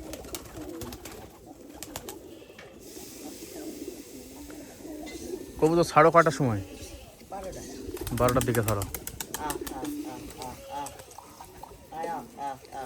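Several lively pigeons coo in low rolling bursts beneath steady talk between people, with louder cooing passages midway through.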